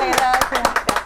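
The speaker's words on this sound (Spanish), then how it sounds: "así que este aplauso para ustedes" A small group claps for guests on a television talk show, the handclaps sparse and irregular, about five distinct claps over a second, close by and mixed with a voice.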